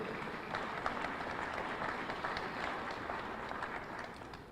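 Faint, steady clapping from an audience at a Jefferson County State of the County address, a soft continuous patter heard from a distance without speech.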